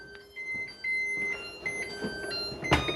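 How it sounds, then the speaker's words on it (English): A kitchen timer goes off during pressure canning, repeating a rhythmic series of high electronic beeps close by, ending with a sharp clack. "There's my timer."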